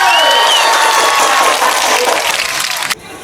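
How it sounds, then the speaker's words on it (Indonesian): A classroom of students claps together in a loud, dense burst of applause for about three seconds, with a few voices and cheers mixed in, then it stops abruptly. "yuk beri tepuk tangan dulu"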